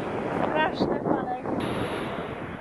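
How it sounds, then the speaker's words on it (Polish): Rough ocean waves wash onto a black sand beach on Tenerife, a steady, dense roar of surf mixed with wind buffeting the microphone, and faint voices briefly audible beneath it. "Woda jest cieplutka, ale są straszne fale."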